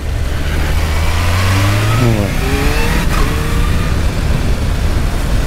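A supercharged Kawasaki H2 motorcycle idles and revs while warming up, its engine note climbing and falling in steady, close, loud pulls with brief speech over it.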